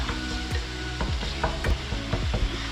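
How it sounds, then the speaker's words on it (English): Raw mince browning in a hot pan for lasagne sizzles steadily while a utensil scrapes and stirs it in regular strokes, close up with no talking. "We're browning off the mince."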